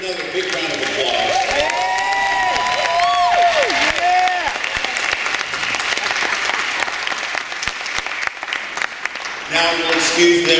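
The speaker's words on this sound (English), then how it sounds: "Let's give another big round of applause." Loud, sustained applause from a large debate audience, dense clapping throughout with some cheering, plus a brief swell of voices and tones near the start.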